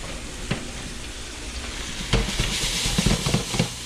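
Curry stirred and shaken in a frying pan for coconut curry chicken and rice, a steady broadband sizzle with a few scraping clatters and louder stirring bursts in the second half.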